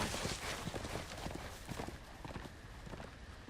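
Quick, steady hoofbeats of a horse in the Telltale Game of Thrones video game clatter along in a rapid clip-clop rhythm, fairly close and fairly quiet, with no voices.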